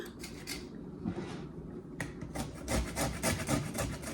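A lime being zested on a grater, close repeated rasping strokes in an uneven rhythm, a few quick scrapes at first, then a denser run of steady scratching.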